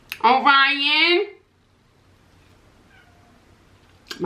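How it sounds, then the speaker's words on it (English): A cat meows outside a door: one long, loud, drawn-out cry close by, followed by near silence and a faint noise at the end. "My cat is crying out the door."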